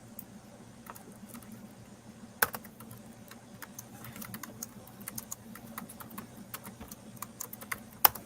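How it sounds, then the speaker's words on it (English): Keystrokes tapping on a computer keyboard in quick irregular bursts at close range, with a louder clack near the start and another near the end, over a steady low room hum. "Let me just try typing it in and see what happens."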